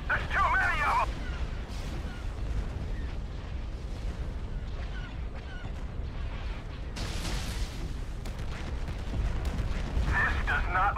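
Booming laser cannon blasts and crackling energy bursts roll continuously through a dense video game space battle din, loud and close, with a rumbling low-end throughout.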